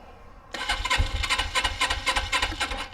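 A 1980 Suzuki GS450L motorcycle cold-starting: a short crank catches after a quiet moment, then the engine settles into a lumpy, pulsing idle, close and fairly loud with no talk.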